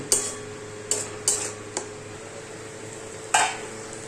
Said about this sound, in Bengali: এইবার আরেকটু নেড়ে দেবো।